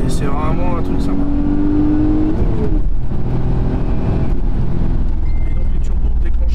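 A tuned 450 hp Audi S4 B5 Avant pulls hard, its engine note climbing steadily in pitch before a shift, then carrying on as a loud, continuous roar.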